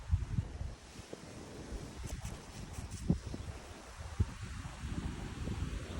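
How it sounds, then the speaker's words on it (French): Steady wind buffets the microphone in low rumbling gusts outside a house with a terrace and garden in Illies, with faint rustling in the background and no voices. "en espérant qu'il n'y ait pas trop de vent"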